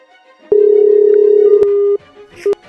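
A phone call goes unanswered, marked by a loud steady electronic tone that holds for over a second. Shorter beeps and a couple of clicks follow, and no voices are heard.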